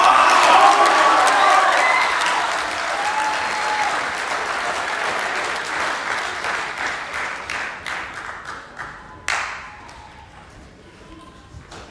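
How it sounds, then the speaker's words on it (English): A room audience claps after a student's speech, loud at first, then thinning into scattered individual claps and a thump before fading out, with some voices mixed in. "another round of applause for Mr. Isako from Palmerston Boys High School"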